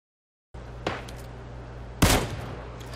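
Gunfire in a war video game: after a moment of silence, two sharp shots ring out about a second apart, the second louder and closer, over a low steady background hum.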